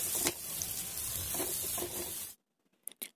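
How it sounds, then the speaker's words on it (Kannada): Batter dropped by hand onto a hot iron griddle (hencu) for crispy tea-time snacks sizzles in a steady hiss for about two seconds, then cuts off to near silence with a couple of faint clicks. "ಕಾದಿರೋ ಹೆಂಚು ಮೇಲೆ ಒಂದೊಂದಾಗಿ ಬಿಡ್ತಾ ಹೋಗೋಣ"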